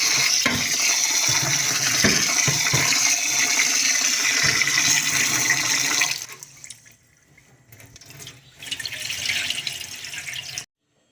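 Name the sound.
water being poured into a pot of rice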